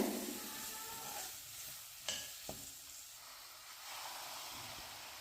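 Greens and brinjal being stirred in a pan, with a soft steady sizzle and hiss, occasional scrape clicks of the spoon, and no voices.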